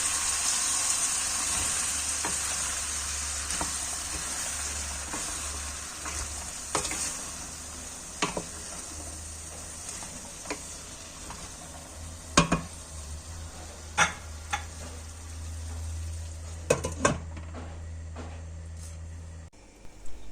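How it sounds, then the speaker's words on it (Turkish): Black-eyed peas sauté with tomato paste in a pan, giving a steady sizzle and hiss with occasional stirring scrapes and clinks of a utensil against the pan, close and continuous. "Börülceler kavrulduktan sonra suyu ekledik."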